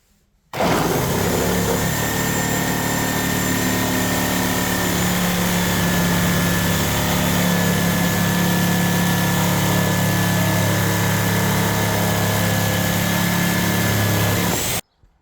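Reciprocating saw fitted with a Hercules demolition blade cuts through plain wood, a loud, continuous buzzing drone with steady motor hum that starts abruptly and runs unbroken for about fourteen seconds before stopping.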